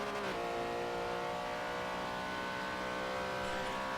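A race car in Forza 7 at Virginia International Raceway drives through the final turn, its engine holding a steady, loud, high-pitched drone with a brief pitch dip at the start of the run.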